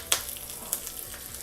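Mustard seeds, dried red chillies and curry leaves tempering in hot oil for a fenugreek greens lentil dal: a faint, steady sizzle with a couple of sharp crackling pops near the start and middle.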